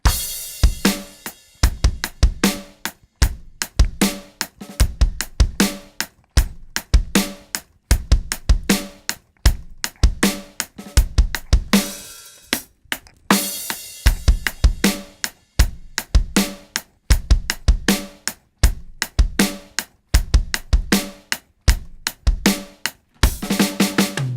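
A rock drum kit plays a steady verse groove, punchy kick and snare backbeat with cymbal hits, loud and alone with no voices.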